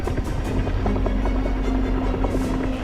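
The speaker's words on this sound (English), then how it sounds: "We were watching the helicopter trying to grapple and lift the spacecraft up." A recovery helicopter hovers over a sinking space capsule at sea, its rotor thumping steadily under a continuous engine whine, loud and close with no voices.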